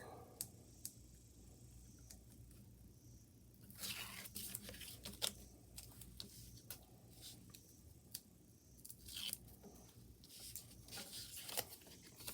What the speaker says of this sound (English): let's peel off the wrapper